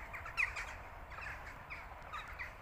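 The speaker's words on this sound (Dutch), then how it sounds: "Zoveel kraaien bij elkaar." A large flock of crows gathered while feeding, giving repeated harsh caws at moderate distance over steady outdoor background noise.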